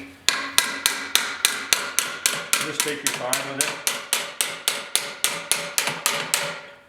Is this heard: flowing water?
no